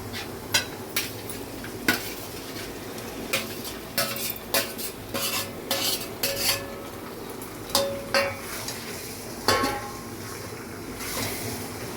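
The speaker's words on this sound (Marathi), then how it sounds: "ह्या प्रॉन्सला जरा शिजून देऊया" Marinated prawns stirred in biryani masala in a pan, with a spoon clinking and scraping against the metal in irregular strokes over a low, steady sizzle. No one speaks.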